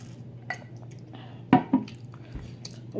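Someone eats boiled snow crab and crawfish up close, with wet, squishy chewing and a few sharp smacking clicks over a low background hum.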